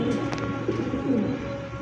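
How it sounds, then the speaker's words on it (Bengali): A White King pigeon coos, low throaty calls repeating close by over steady background noise, with no talking. "তো দর্শক দেখতে পাচ্ছেন হোয়াইট কিং কবুতর মাশাআল্লাহ"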